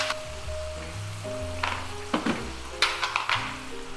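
Food sautéing in a hot pan gives a steady sizzle, with a few louder scrapes and clatters of utensil against the pan near the end. No one speaks.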